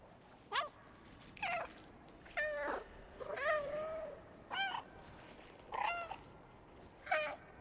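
Cat meowing in the video game Stray, about seven separate rising and falling meows spaced roughly a second apart, clear and close over a quiet background.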